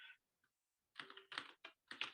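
Bursts of quick clicking keystrokes on a computer keyboard during touch typing, close and quiet, with brief pauses between the runs of taps.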